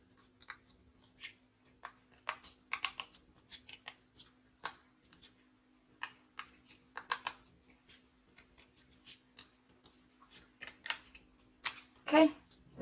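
Scissors snipping through paper to cut out a middle section for a children's craft, heard as a series of short, light crisp cuts with pauses, close by, ending with a louder rustle of paper.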